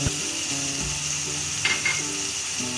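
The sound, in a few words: beef karahi frying in a pan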